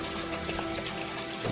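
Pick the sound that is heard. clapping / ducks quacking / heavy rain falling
heavy rain falling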